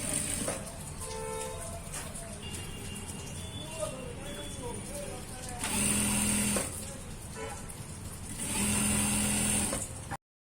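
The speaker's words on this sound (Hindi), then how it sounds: "यहाँ से हम करेंगे स्टिचिंग।" A sewing machine stitching a medical uniform runs in two louder whirring bursts near the middle and end, over a continuous lower mechanical hum, close by and without speech.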